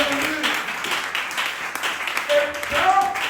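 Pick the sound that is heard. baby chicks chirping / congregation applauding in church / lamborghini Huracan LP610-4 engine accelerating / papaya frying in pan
congregation applauding in church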